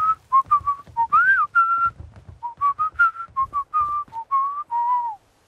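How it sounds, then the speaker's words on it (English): A character in the video game Fallout 4 whistles a jaunty, bouncing tune of many short, clear notes that rise and fall, alone and close with no talking. "We're not paying you to whistle, Logan."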